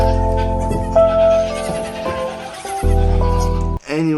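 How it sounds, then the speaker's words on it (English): Baby goats bleating, loud, drawn-out wavering cries that overlap and follow one another closely, ending in a sharp final call. "Little goats. Baby goats. That's adorable."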